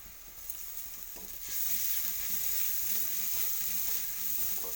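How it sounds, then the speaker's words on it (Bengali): Ginger frying in a pan with garlic and turmeric for a fish and pointed gourd curry, a soft sizzle that swells louder partway through and then holds steady, with light stirring and no voices. "আদাটাকে আমি বেশি ভাজা করে করবো"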